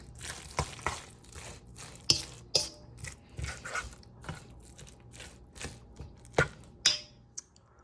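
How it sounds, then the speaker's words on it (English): Veggie turkey meatloaf mixture is worked with a fork in a bowl, giving soft irregular squishing and tapping strokes, quiet and close, with no voices. "let's see how my mixing goes with this fork"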